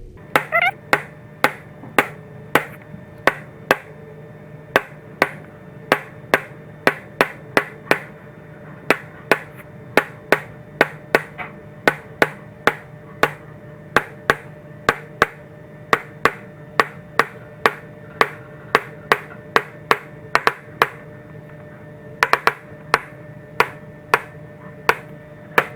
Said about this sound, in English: I'm going to take my scratch awl and I'm just going to put a small divot in all these points